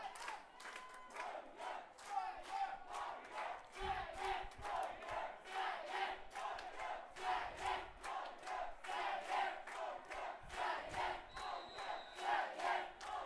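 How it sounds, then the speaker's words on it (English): Norwegian and Swedish fans in the stands at an under-19 European football match chant in rhythmic rival cheers, a loud, steady pulsing crowd roar with repeated shouted beats, somewhat distant. "Norway and Sweden are battling in a cheer"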